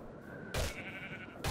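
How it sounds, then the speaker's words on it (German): A white sheep in Minecraft bleats twice, short nasal baas close by, separated by a pause with soft background game noise. "So, ein weißes Schaf."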